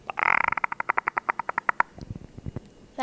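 A voice imitates a platypus with a rapid run of short, bright, evenly spaced chirping clicks, followed by several lower, softer grunting pulses, close and loud.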